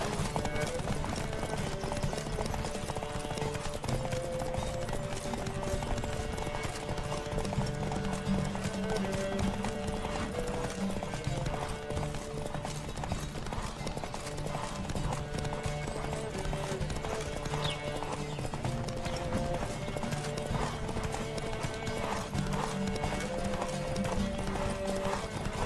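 Galloping horse hooves from The Witcher 3: Wild Hunt beat in a steady fast rhythm under continuous game music, with a voice talking over them.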